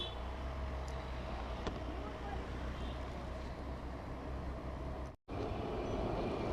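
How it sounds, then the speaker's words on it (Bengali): A Kolkata tram rumbles along in a steady low drone with rail and traffic noise around it, heard from on board or nearby, with a sharp clunk near the end and people talking faintly. "ভাই কলকাতার সেই ট্রাম এখনো চলছে।"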